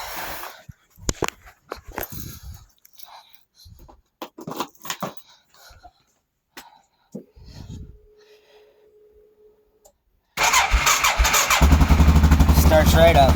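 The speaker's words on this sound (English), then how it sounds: "Battery was a little dead, so it took a couple cranks, but once it cranked fast enough, started right up." A quad ATV with a slightly weak battery is cranked over after sitting unused. Scattered clicks and brief, quiet cranking come first, then the engine catches and settles into a loud, steady idle for the final few seconds.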